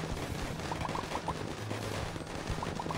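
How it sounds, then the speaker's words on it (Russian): Steady distant artillery and gunfire in a video game, a dense continuous rumble with faint repeated pops, fairly quiet throughout with no talk. "Ох, нифига, артиллерия какая"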